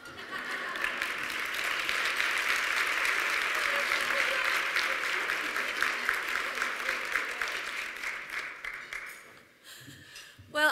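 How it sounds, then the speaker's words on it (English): An audience at a nursing event claps warmly after an MC's introduction, a steady round of applause that slowly fades out over about ten seconds, with a voice and some laughter near the end. "Round of applause for that introduction."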